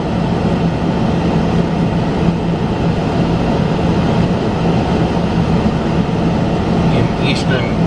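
A train rumbles past steadily and loudly, a continuous roar of wheels and engine that holds constant throughout.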